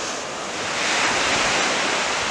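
Small, clean waves break steadily at Anglet beach, a loud continuous wash of surf with wind noise and no voices.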